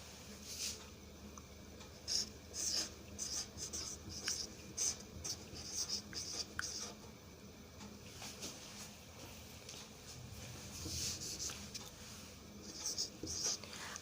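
Pen scratching across paper while the date is written, a soft run of scratchy strokes with small pauses between them, heard close and alone.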